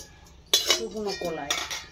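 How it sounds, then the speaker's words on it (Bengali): About 200 grams of moong dal are dry-roasted in a dry kadai, heard as a metal spoon scraping and clinking against the pan in close, bright bursts, with a voice briefly speaking. "শুকনো কড়াইতে খিচুড়ির কলাইটা ভেজে নিচ্ছি।"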